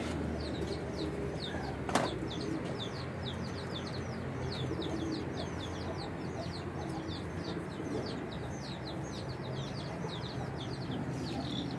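Breeder pigeons coo and flutter softly in a loft, repeated short bird calls over a steady background hum, moderately distant, with one sharp click near the start and no talking.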